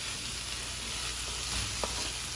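Peas browning in a pan for fried rice, a steady bright sizzle holding evenly throughout, with one small tick near the end, close and unaccompanied by talk.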